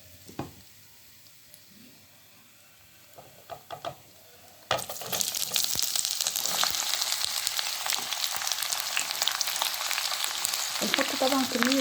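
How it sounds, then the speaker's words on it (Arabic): Onion rings dropped into hot oil with meat for a pot kebab, a loud steady sizzle and crackle that jumps up abruptly after a few quiet seconds of faint clatter and continues without talk. "وقت ده انزل بالبصل حلقات"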